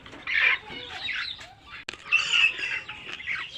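Local desi hens and roosters cluck and squawk close by in a farm house, a busy overlapping flock chorus with a sharp flap or knock midway.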